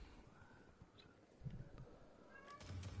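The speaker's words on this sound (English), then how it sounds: "Oh, that's a cat." A cat meowing in the video game Destiny 2, faint and brief calls set within a noisy game soundscape.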